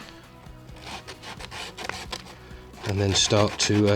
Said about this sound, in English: I need to sand it by hand, which is going to take a while